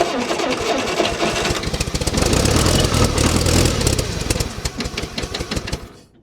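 A 1962 Allis-Chalmers dozer engine, long left sitting, runs loud and close with a rough, rapid chugging that swells as the throttle is moved, then slows into uneven putters and cuts off.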